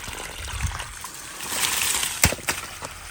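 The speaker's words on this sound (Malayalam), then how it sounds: "കാരണം അത്രയും വെള്ളം ഇവിടെ വന്നുകൊണ്ടിരിക്കുന്നുണ്ട്." Water pours from a solar pump pipe into a fish pond, a steady broadband trickle and splash running throughout, with a few sharper splashy bursts near the end.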